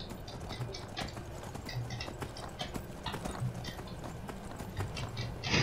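A horse gallops in Skyrim with a fast, steady run of hoofbeats, moderately close, with a faint whinny near the end and no speech.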